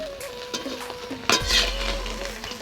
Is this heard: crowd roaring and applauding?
no